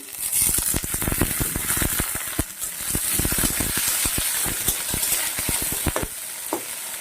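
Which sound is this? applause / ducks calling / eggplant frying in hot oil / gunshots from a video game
eggplant frying in hot oil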